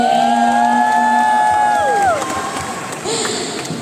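An audience at a Waseda Boys fan meet-and-greet cheers and claps, with long sliding whoops from voices that fall away into a lighter scattered crowd sound.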